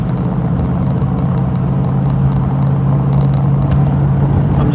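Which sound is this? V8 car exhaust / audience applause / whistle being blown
V8 car exhaust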